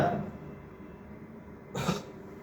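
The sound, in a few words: patient coughing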